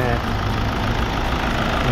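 A Mazda Atenza sedan's diesel turbo engine idles with a steady low, knocking rumble, close and continuous, with a voice talking over it.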